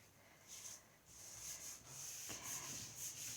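A hand smooths glued cardstock flat with a soft, close, quiet rubbing that comes in short strokes and continues steadily with no talking.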